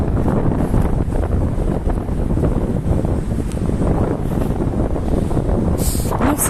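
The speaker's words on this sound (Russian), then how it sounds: "Ветер уже довольно сильный." Strong wind blows outdoors on a cool day, buffeting the microphone with continuous loud broadband roar and gusts, no voices.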